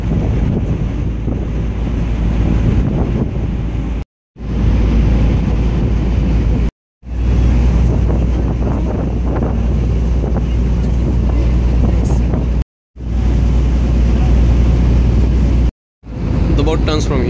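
A boat cruises along the Moscow River, with rushing wind buffeting the microphone and water churning in a steady loud wash, broken by a few brief cuts to silence and mixed with talking voices.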